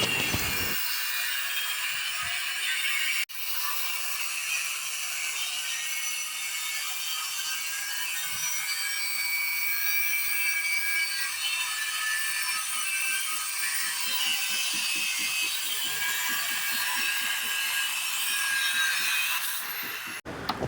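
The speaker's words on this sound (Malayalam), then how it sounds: "കട്ടർ ഉപയോഗിച്ച് അത് മുറിച്ചെടുക്കുന്ന ഒരു രംഗമാണ് ഈ കാണുന്നത്" A cutting machine cutting steel reinforcement rods grinds with a sustained high-pitched whine, steady for many seconds with brief rattling pulses near the end.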